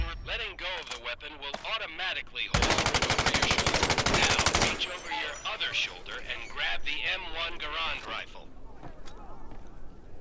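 Rifle fire in the virtual reality war game Medal of Honor VR comes as one loud, rapid burst of about two seconds, with someone talking before and after it.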